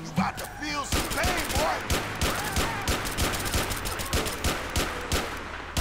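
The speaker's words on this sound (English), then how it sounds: "Somebody's definitely shooting at us back here." Rapid gunfire rings out during a police mod for the video game GTA IV, LCPDFR, with repeated sharp shots in quick bursts, some close and loud, plus crackling echoes, continuing throughout the scene.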